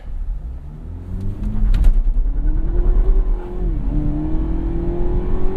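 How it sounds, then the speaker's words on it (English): A 2017 Cadillac CT6 with its 2.0L turbo engine launches hard from a standstill, the engine note climbing in a loud, steady rise with a brief shift dip midway, under a constant low rumble and no talk. "little bit of wheel spin on the launch"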